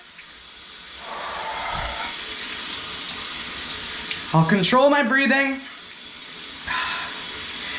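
Cold shower water running in a steady hiss, fairly close, while a person speaks partway through.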